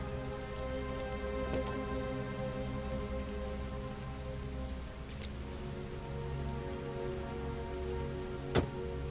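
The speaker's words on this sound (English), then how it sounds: "Heavy rain." Heavy rain falls in a steady, dense patter on a surface, continuous and even throughout, with a single sharp knock near the end.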